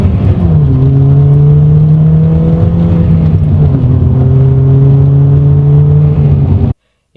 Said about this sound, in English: What's it like to drive a loud ass car?